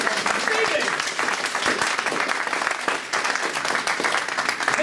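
A magic show audience applauds a volunteer coming on stage with sustained crowd clapping for several seconds, and voices call out over it.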